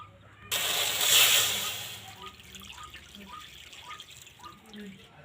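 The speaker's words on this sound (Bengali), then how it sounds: "ডিম সেদ্ধ করার জন্য কিছুটা জল দিয়ে দেব" Water is poured into a cooking pot to boil eggs, a loud splashing rush lasting under two seconds, followed by faint scattered drips in a quiet kitchen.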